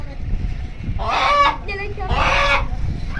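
Rooster calls out in two loud harmonic bursts with a short squawk between, fairly close, over a steady background murmur.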